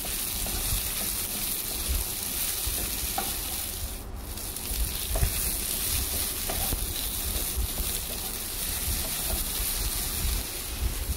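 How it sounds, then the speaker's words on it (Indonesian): Okra and anchovies stir-frying in a pan, a steady close sizzle with occasional scrapes of stirring and one brief clatter, no voices. "Tumis lagi."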